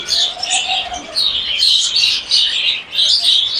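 Sixty to seventy caged cockatiels and lovebirds chirp and tweet nonstop, a dense and lively chatter close by.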